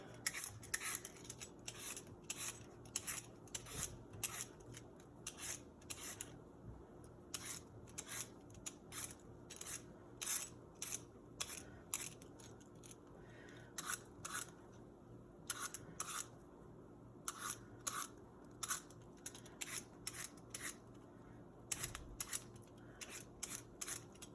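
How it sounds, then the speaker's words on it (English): Potato being peeled over a paper towel on a cutting board, a long run of quick, soft scraping strokes in an irregular rhythm, close and fairly quiet, with no talking. "We're going to go ahead and peel our potato."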